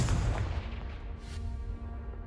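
A Confringo spell explodes in Hogwarts Legacy: one deep boom at the start rolls into a rumbling decay, with a short bright whoosh about a second later as the blast fades.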